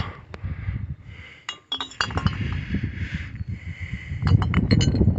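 Old glass bottles, including a Platts chloride disinfectant bottle and flasks, clink and knock together nearby in a scattered run of sharp chinks over clattering handling noise.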